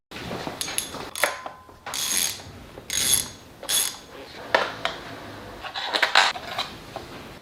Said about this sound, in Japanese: ここはボルトがここより内側に入っているので、エクステンションバーを使っていきます。